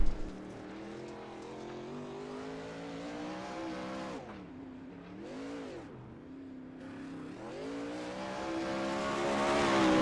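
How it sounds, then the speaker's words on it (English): A 410 sprint car laps a dirt track at Fairbury in a sim racing game, its engine droning with harmonic whine that dips and rises through corners, then builds louder toward the end as it accelerates, with no voices. "It's John Berkeley on track right now."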